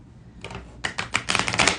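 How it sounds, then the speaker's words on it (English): Tarot deck of 22 Major Arcana cards being shuffled by hand, a quick run of crisp riffling bursts that grow denser and louder over a couple of seconds, close up with no talk. "let me shuffle these"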